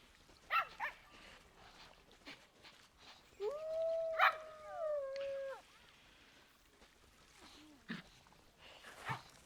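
Young puppies with their mother give a few thin, wavering howls and short yips, the longest howl rising and sliding for about two seconds mid-clip, fairly faint with quiet gaps between.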